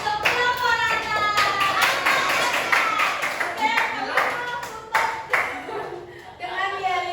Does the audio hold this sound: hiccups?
no